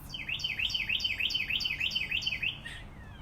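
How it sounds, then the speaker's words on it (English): Repeated bird chirps, around a dozen short bright calls in a steady rhythm, sounding outdoors at moderate distance behind a quiet room, fading out near the end. "Hear the birds in the background"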